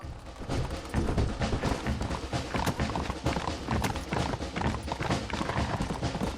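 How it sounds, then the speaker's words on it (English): Horse hooves gallop in the Western game Red Dead Redemption, a dense, rapid clip-clop rhythm pounding steadily and loudly throughout with no pauses. "John, where's your horse going, mate?"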